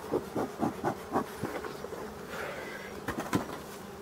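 Honeybees buzz around an opened abandoned hive while a smoker burns straw. The buzzing is a close, faint, irregular drone broken by pulsing passes, with no voices.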